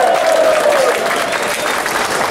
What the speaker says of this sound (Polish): przede wszystkim wielkie brawa dla piłkarzy